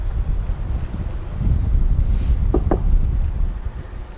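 Wind buffets the microphone on a Desiknio Pinion Classic bike while riding, a loud, constant low rush with a couple of brief knocks.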